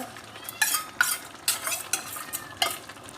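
Spiced curry being stirred and mixed in a pan, cooked without oil, with ginger-garlic paste and masala: repeated scraping strokes of a utensil against the pan roughly every half second, close and clear over a faint background sizzle, no talking.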